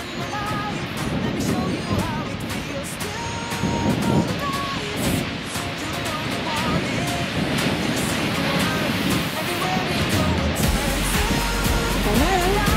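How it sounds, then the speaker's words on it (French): Steady roar of the El Agrio waterfall among volcanic terrain, a dense continuous rush of falling water heard close and loud throughout, with faint voices beneath. "À la cascade d'El Agrio."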